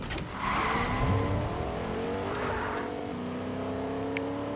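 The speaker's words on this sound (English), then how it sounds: "I'm gonna get a car and go to the enemy." A car driven in Fortnite, its engine a steady, close droning hum that rises and falls slightly as it accelerates, with a faint tire-scuff texture throughout and no talking.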